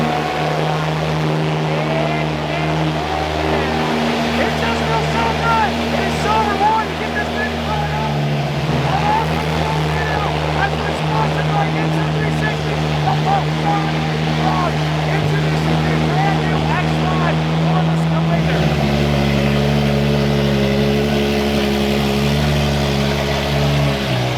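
A Ferrari 812's 6.5-liter V12 idles loudly after a cold start, giving a deep steady drone that shifts pitch midway and runs continuously, with someone talking over it.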